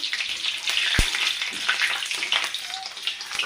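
Onion and gravy paste fry in hot oil in a wok with a bright, crackling sizzle, broken by a sharp knock and occasional stirring scrapes, up close and with no talk.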